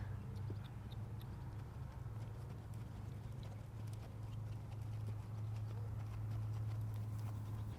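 Horse hooves clip-clop steadily through a riding arena as a horse trots around a corner, a continuous low rhythmic patter, fairly near, with no talk over it.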